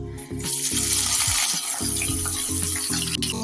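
Chopped onions frying in a pan with a little salt, a bright sizzle mixed with a low, uneven rumble of movement.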